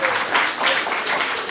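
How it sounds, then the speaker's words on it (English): Brief burst of audience clapping at a healing gathering, dense and fairly loud, lasting little more than a second. "Clap for yourself."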